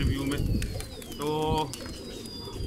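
Pigeons kept by a pigeon fancier coo in a low burbling rhythm close by, with sharp chirps and a few brief whistling tones over the top.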